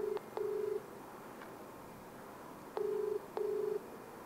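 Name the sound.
phone call being dialed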